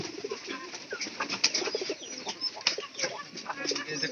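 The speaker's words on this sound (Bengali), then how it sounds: "এত কবুতর আছে" Many pigeons kept together give soft, overlapping coos and murmurs close by, with occasional wing flutters and a voice talking briefly in the background.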